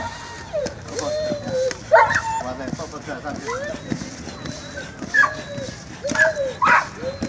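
A rescue dog barks during water rescue training at Námestovo, with repeated sharp barks and yips at close range over splashing and people talking nearby.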